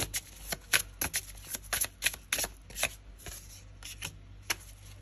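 Tarot cards being shuffled by hand in a quiet room, a run of crisp, close riffling bursts and soft slaps in uneven rhythm, with no talking.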